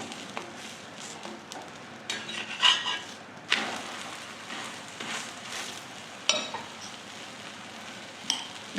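Methi paratha roasts in ghee on a pan with a soft, faint sizzle, broken by occasional clinks and scrapes of a spatula against the pan.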